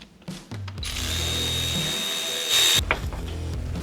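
A power tool backs out the last bolt of the oil filter housing on a BMW N57 diesel engine, giving a steady, loud, close whine with a brief rising burst near the end.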